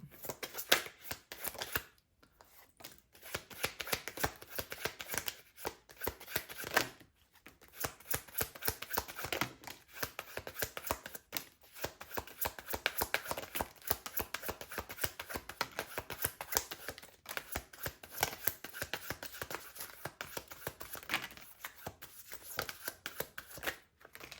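Tarot cards being shuffled, a long run of crisp riffling and flicking card sounds close to the microphone with brief pauses between bursts, continuing steadily throughout.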